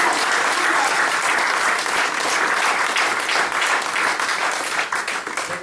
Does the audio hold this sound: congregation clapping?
yes